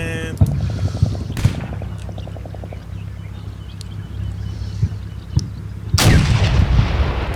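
Gunfire rings out in the Combat Mission Black Sea war game as scattered sharp shots crack over a low engine drone, with a quick burst of rapid fire and a louder blast near the end; no talk.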